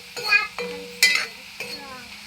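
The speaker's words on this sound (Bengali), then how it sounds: "দেখো পেঁয়াজটা ভাজা হয়ে গিয়েছে। এখন আমি দিয়ে দিব মাংস।" Chopped onions fried until reddish-brown, with chicken pieces going into the pan, give off a sizzle broken by three sharp clatters of stirring against the pan, close up and fairly loud.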